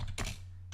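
A few quick keystrokes on a computer keyboard, close and fairly quiet, with a brief gap between clicks.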